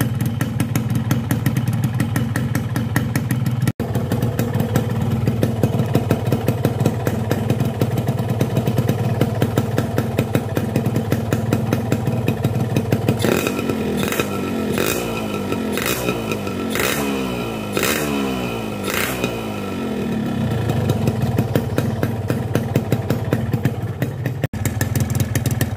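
A two-stroke motorcycle engine running on Orange Eco Blue oil just after starting, a close steady idle with rapid popping pulses and a stretch of sharp clattering blips of the throttle midway.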